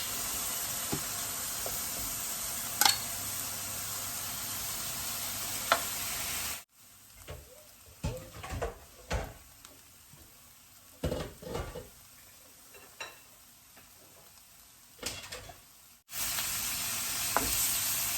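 Marinated pork steak sizzles loudly in a hot pan with a steady frying hiss, broken by a quieter stretch of scraping and clinking before the sizzle returns.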